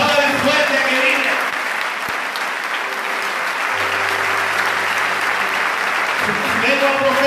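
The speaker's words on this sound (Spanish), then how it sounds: "Aplauden fuerte, querida." A church congregation at a Wednesday service applauds loudly, a sustained wash of clapping with voices and a low tone mixed in underneath, continuing throughout.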